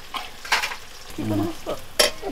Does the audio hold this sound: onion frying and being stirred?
yes